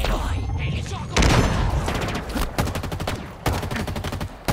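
Rapid automatic gunfire from Halo Infinite crackles in dense, loud bursts with heavy booming hits and short pauses, close and continuous, while voices speak over the combat.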